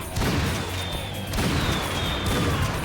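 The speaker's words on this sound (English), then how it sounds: "Also, this level has fireworks." Fireworks bursting during a Painkiller level: two broad, booming crackling blasts in quick succession, each followed by a thin descending whistle, loud and close with no talk.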